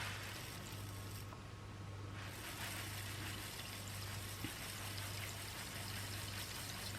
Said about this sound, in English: I'm just pouring it straight into the water, and I'm just being very gentle because I'm doing it direct.